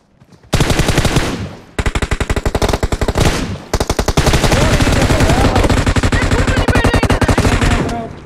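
Rapid machine gun fire from the PUBG Mobile video game, loud and close, coming in long sustained bursts separated by brief pauses, with faint talk buried beneath.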